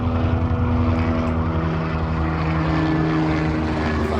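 A helicopter flies right overhead, its loud, steady engine drone and rotor throb dominating without pause, close and unbroken, with no talk.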